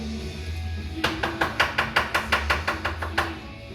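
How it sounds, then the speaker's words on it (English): A knife dices onions on a cutting board, about a dozen crisp, evenly spaced chops in quick rhythm after a quiet second, close and clear with no talk. "Dicing the onions right."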